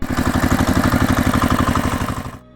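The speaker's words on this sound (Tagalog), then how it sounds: "nagising siya dahil sa tunog ng makina" Engine chugging steadily at idle with a fast, even rhythmic pulse and some clatter, loud and close, running alone for over two seconds before cutting off abruptly into near silence.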